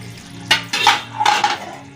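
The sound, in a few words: putting a lid on the frying pan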